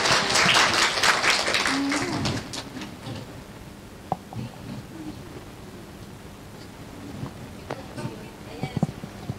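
An audience applauds for Esther at a religious gathering, with loud dense clapping for about two seconds that quickly fades to scattered claps, rustling and a few isolated sharp claps.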